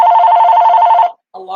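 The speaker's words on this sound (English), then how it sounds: "I think someone's phone rang." A phone rings in a repeating electronic trill, loud and close for about a second, then stops briefly before a fainter tone resumes.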